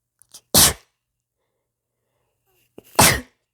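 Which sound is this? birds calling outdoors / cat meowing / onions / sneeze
sneeze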